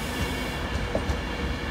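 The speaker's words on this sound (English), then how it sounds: "Coming in now is another delayed Virgin Trains West Coast Pendolino service to Glasgow Central." A delayed Virgin Trains West Coast Pendolino, unit 390134, bound for Glasgow Central, pulls into Lancaster station on the West Coast Main Line with a loud steady rumble, low wheel thumps and a faint squeal.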